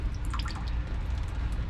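Water drips from a leaking new shower valve even with the supply shut off: a few faint, quick drops over a low steady hum, close by.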